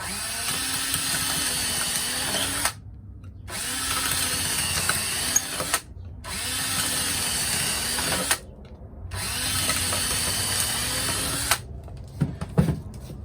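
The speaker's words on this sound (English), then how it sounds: "I just take a good sized drill bit and I just drill straight into them." A power drill whirs through a stack of plastic plant pots in four long bursts separated by short pauses, close and loud, ending with some rattling.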